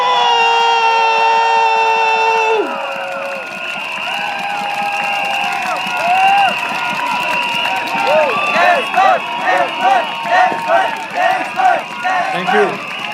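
A large crowd at a Singapore election rally in Tampines cheers and roars for the mayor, with long horn-like tones early on and rhythmic chanting pulses building toward the end.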